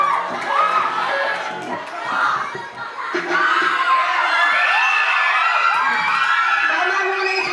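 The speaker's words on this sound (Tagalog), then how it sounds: "Tama mo na yung sigawan." A crowd of young voices shouts, whoops and cheers loudly and continuously, with overlapping excited cries rising and falling in waves.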